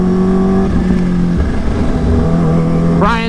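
A Kawasaki Ninja H2 motorcycle revs nearby, a steady engine drone rising sharply in pitch near the end as the throttle opens.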